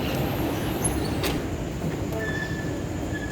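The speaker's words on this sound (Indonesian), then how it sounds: "ini keretanya sudah datang yang ke arah Cikarang" A commuter train bound for Cikarang rolls into the station, a loud continuous rumble with metallic wheel squeals and brief high screeches as it draws close.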